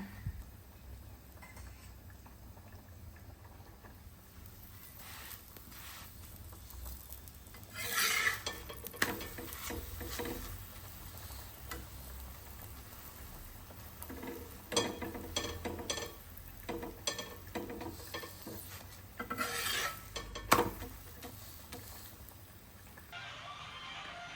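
Chapatis being made in a home kitchen, quiet clatter of utensils and pans with brief scraping and tapping bursts, no talk.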